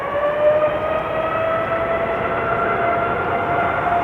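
A TUI Boeing 787-8 Dreamliner departing Amsterdam Schiphol Airport, a loud sustained engine roar with steady whining tones held throughout, close and unbroken.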